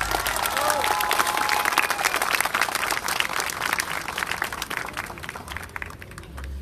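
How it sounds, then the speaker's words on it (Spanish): Enthusiastic applause from a political rally crowd in Pinotepa Nacional, dense continuous clapping loud at first and gradually thinning toward the end, with crowd noise underneath. "esos aplausos que sean más efusivos"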